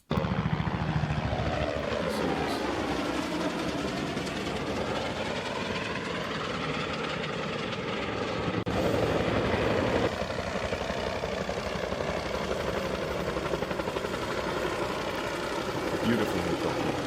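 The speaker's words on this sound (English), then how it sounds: "Beautiful helicopter." A Bell 222 helicopter flies at low altitude, its broadband rotor and turbine noise steady and loud across the whole stretch and swelling slightly midway as it manoeuvres.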